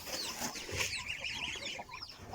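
Busy clucking and chattering of geese and chickens close by, a jumble of overlapping calls from several birds with no talk.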